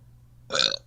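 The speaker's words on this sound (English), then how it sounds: "Yo, you just burped in your mic." A single loud burp lands right into a close microphone, a short raspy eructation of under half a second during an online interview.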